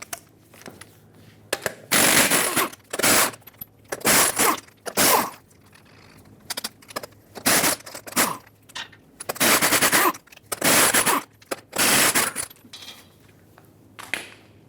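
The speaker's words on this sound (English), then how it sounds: "Once you pull this off, you can take all of your 24mm lug nuts off." Lug nuts coming off a Dodge Ram 2500 wheel with a power impact tool, heard as repeated loud bursts of rattling with short gaps between them and no talk.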